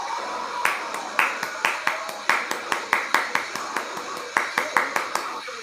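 Rhythmic clapping in a church congregation, a steady beat of sharp claps roughly twice a second, fairly close and continuous with no cheering evident.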